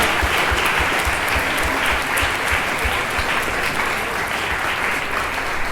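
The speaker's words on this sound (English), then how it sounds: "Let's hear it up for Father Alexander" Sustained applause from a crowd, dense steady clapping filling the space with no pause throughout.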